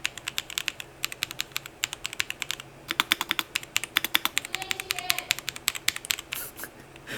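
Rapid typing on a computer keyboard placed close to a clip-on Boya BY-M1 Pro 2 lavalier microphone, with dense, crisp key clicks in steady bursts, loud and alone.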